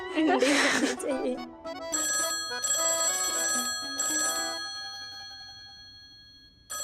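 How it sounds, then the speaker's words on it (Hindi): A telephone bell rings loudly in repeated bursts over background music, with brief gaps between rings. "नैना, जाके फोन उठाना, मम्मी नहीं तो चिल्लाएंगी"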